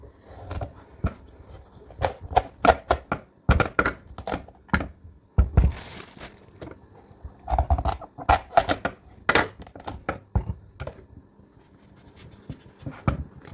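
A knife chops through a hard pumpkin on a board in sharp, irregular thuds and cracks, close and loud, spaced by brief pauses.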